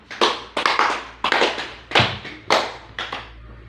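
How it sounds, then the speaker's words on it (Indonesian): A classroom of grade eight students applauds a presenting group in short, close bursts of clapping, each burst a quick cluster of hand claps that rises and fades before the next. "kita memberikan aplaus kepada kelompok 1 yang telah mempresentasikan hasil kerja"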